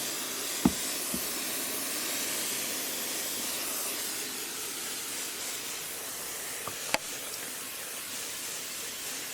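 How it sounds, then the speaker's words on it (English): Steady broadband hiss of a spray bottle giving a snake enclosure a thorough misting for Princess Okinawa habu vipers, continuous and close throughout, with a couple of brief clicks. "give them a thorough mist"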